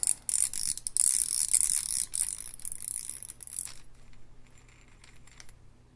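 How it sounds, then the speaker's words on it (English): Metallic clicking and ratcheting as the star drag is backed off a KastKing WhiteMax baitcast reel, a busy run of close, crisp clicks and small part rattles that thins out and fades after about four seconds. "So next we're going to take off the star drag. Just go backwards with it."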